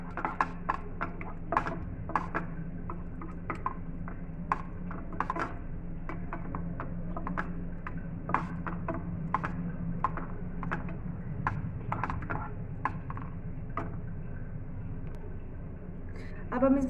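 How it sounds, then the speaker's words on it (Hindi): Ketchup and red chilli sauce being stirred together for chilli bread, a run of irregular light clicks and taps of a spoon against the pan over a low steady hum, close and fairly quiet. "अब हम इन सब चीज़ों को अच्छे से मिक्स करेंगे।"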